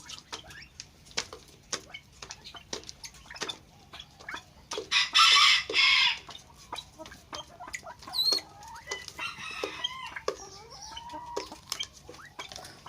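A female pheasant gives scattered clucking calls, with a louder harsh burst partway through and a few sharp rising chirps, moderately close.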